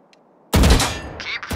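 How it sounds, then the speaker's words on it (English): Rifle fire in the video game Valorant: a quiet lull, then a sudden loud, rapid burst of automatic shots that rings out and tails off within about a second. "Focus your aim, then fire a full magazine into the target."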